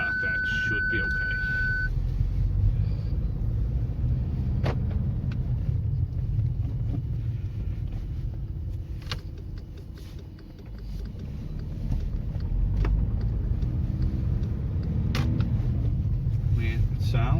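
A car engine runs after an inlet manifold repair, a steady low rumble from inside the car during a short test drive, with a voice talking over it at times.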